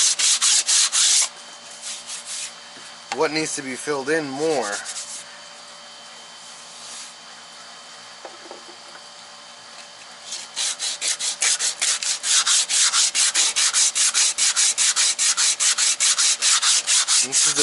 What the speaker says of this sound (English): Now you can see by me sanding